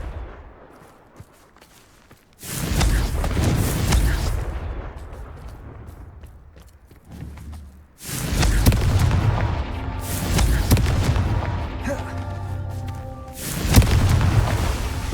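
Fire-blast spell explosions in Hogwarts Legacy sound as loud, booming blasts, two or three heavy bursts with rumbling tails separated by quieter gaps, and no one speaks over them.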